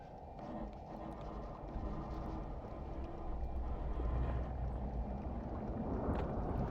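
Distant ship picked up on a submarine hydrophone in Silent Hunter 3, a low, muffled, steady churning rumble with faint rhythmic thumping that swells slightly over several seconds, with no talk.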